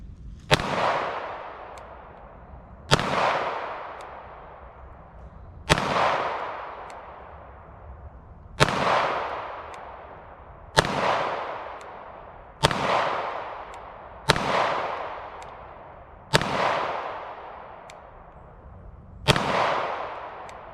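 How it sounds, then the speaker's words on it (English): Nine loud pistol shots from a Staccato P and a CZ P09 ring out one at a time outdoors. Each sharp crack is followed by a decaying echo, with gaps of roughly two to three seconds between shots. "Just shoot the gun."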